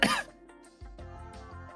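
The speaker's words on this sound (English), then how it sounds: "I can make a cough sound" A single short, sharp cough bursts out at the start, followed by quieter tonal sounds with no talking.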